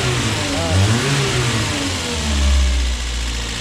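A car engine fires immediately and keeps running, its uneven mid-pitched rumble rising in a couple of small revs and then holding steady near the listener.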